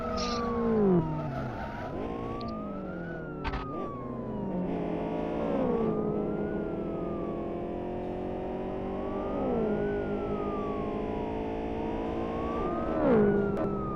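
A police car in the Osmanlı Garage Cruise driving game wails its siren in rising and falling sweeps as it rams the player's car, with engine drone, tyre skids and a sharp thud.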